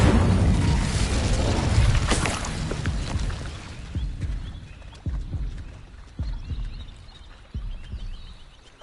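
A fire spell is cast in the game Hogwarts Legacy, starting as a loud, dense burst of rumbling booms and crackle, then thinning into a series of separate heavy thuds over a quieter background.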